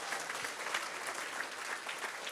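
A church congregation at a Dubai anniversary service breaks into loud, sustained applause, a dense wash of many hands clapping together at steady volume throughout.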